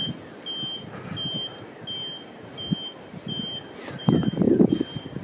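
Electronic buzzers and alarms going off in a neighborhood after Hurricane Irma, a repeating high beep pulsing about every second in the distance, over outdoor rustle and a brief louder clatter near the end.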